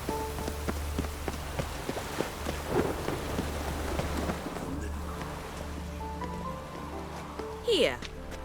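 Rain and thunder in The Witcher 3 video game: steady rainfall with low thunder rumbling beneath, spoken dialogue over it, and a brief sharp swell near the end.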